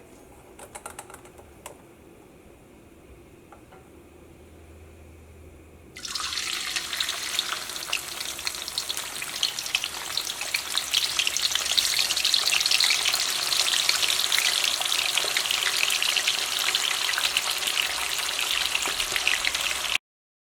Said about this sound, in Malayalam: ഇനി നമ്മൾ ഗ്രീൻ പീസ് വറുത്തെടുക്കാൻ വേണ്ടിയിട്ട് പോവാണ്.